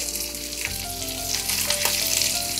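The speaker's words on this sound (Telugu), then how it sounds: "ఒక 6-7 వెల్లుల్లి రెబ్బలు వేసి ఫ్రై చేసుకుందాం." Dried red chillies and garlic cloves frying in hot oil, a dense, loud, steady sizzle close up, with a few soft stirs and a faint tonal hum underneath.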